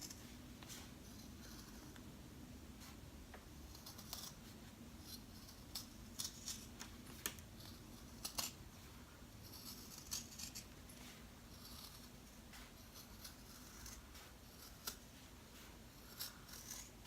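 Scissors cutting around fabric for a lined pig zipper bag, quiet intermittent snips and clicks close by over a low steady hum, no speech.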